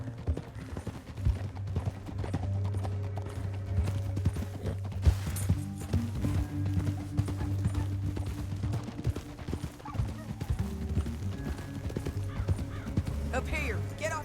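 Horse hooves clop steadily as riders travel through a canyon in Red Dead Redemption 2, moderately loud under a low droning music bed and occasional talk.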